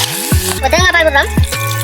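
Coconut milk poured into a sizzling squid curry, a brief loud hiss and bubbling over steady frying, with stirring scrapes at the start and end.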